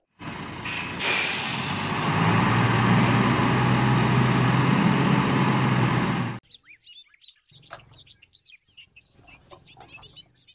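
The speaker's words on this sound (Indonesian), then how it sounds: "mobil dump truk." A dump truck engine rumbles loudly and steadily with a hiss of air brakes near the start, then cuts off, leaving sparse bird chirps in quieter surroundings.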